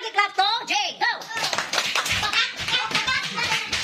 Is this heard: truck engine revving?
no